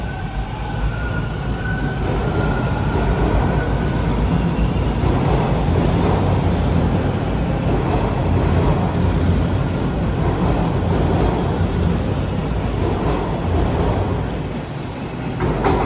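A Toronto subway train runs underway, a steady loud rumble and rattle of wheels and cars that persists throughout, with a faint tone near the start and no talking.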